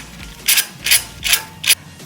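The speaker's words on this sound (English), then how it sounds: "Grab your 12mm socket, and first we're gonna remove these two bolts here." A 12mm socket ratchet works bolts loose on a 2022 Kawasaki Z125 motorcycle, giving four sharp, close ratcheting bursts at a steady rhythm with short pauses between them.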